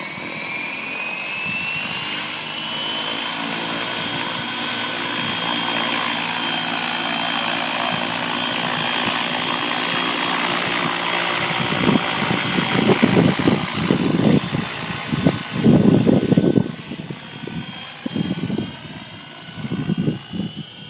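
A helicopter takes off and flies past a golf clubhouse. A loud, steady engine whine comes first, then heavier rotor thumping swells up close toward the end.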